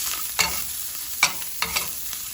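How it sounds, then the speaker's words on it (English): Seafood frying in a hot pan on the stove, giving a steady soft sizzle broken by a few sharp bursts as the pieces are stirred and turned, close and moderately loud with no talking. "vamos a freír para que se selle por todas partes como por 2 minutos"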